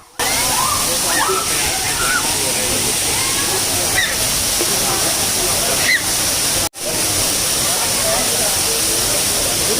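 Maldevta waterfall pours as a loud, constant rushing hiss of falling water, with faint voices and a few brief splashes over the steady roar.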